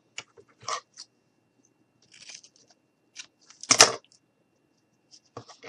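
Scissors snip through strips of material for a faux decorative apple pie, a few short crisp cuts spaced apart, the loudest one a sharp close snip near the end, otherwise quiet.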